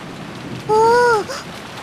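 Steady rain and wind hiss evenly through a scene of the Umineko video game, with a brief gliding musical tone rising over the downpour midway.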